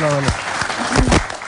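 A television studio audience claps briefly while voices talk over the applause.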